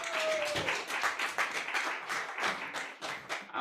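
Audience applause at a Black History Month string music program, steady close clapping from many hands with distinct individual claps, continuing alone throughout.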